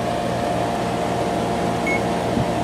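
A circulaire-type air circulator fan runs in a garage, its steady, fairly loud broadband whoosh with a low hum continuing unbroken throughout, with no voices.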